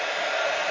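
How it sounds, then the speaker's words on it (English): A heat gun blows a steady, even rush of hot air to melt powder coating, a close, continuous hiss with no voices during the brief burst. "Now this is going to get a little bit noisy because we're going to use our heat gun here."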